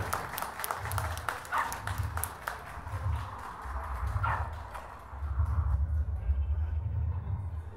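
Audience clapping for Kangal (Anatolian Shepherd Dog) breeders at a dog event, a steady patter of applause rising and then thickening toward the end.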